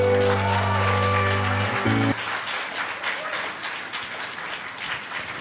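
Audience applause after a poetry performance at a press briefing, a sustained wash of clapping from a crowd that continues steadily after a held musical tone cuts off.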